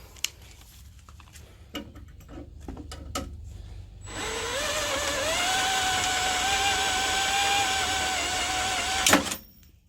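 A drill bores through thick steel during a Jeep winch bumper install, starting after a few scattered knocks and rising into a steady, loud whine with a climbing pitch that holds for several seconds before cutting off with a sharp crack.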